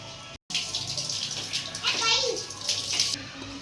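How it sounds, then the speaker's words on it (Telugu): Rice grains being washed by hand in a pot of water, a steady splashing and swishing with a brief cut near the start and faint talk underneath. "తర్వాత కొంచెం తీసుకొని బియ్యాన్ని బాగా కడగాలి"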